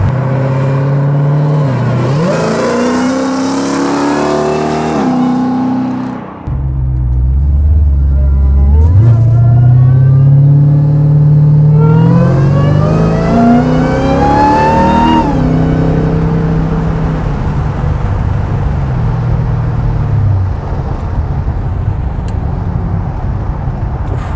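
A 900 hp Hellcat-powered 1970 Plymouth Superbird restomod roars loudly up close, climbing through several hard revving pulls with a dip between them and then settling into a steady, rumbling cruise.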